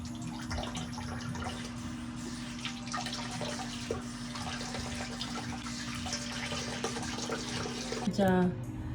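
A faucet runs steadily with a low hum and faint splashing, then a brief squeak and gush near the end.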